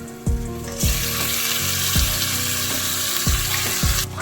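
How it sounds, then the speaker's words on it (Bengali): Marinated chicken frying in oily Hyderabadi masala, a loud continuous sizzle broken by several rhythmic spatula knocks and stirs against the pan. "এবারে আমরা এতে অ্যাড করে নেব ম্যারিনেট করে রাখা চিকেনটা।"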